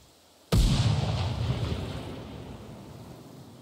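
A grenade explodes in the tactical shooter game Ground Branch. One sudden, loud blast is followed by a long rumbling decay that fades over a few seconds.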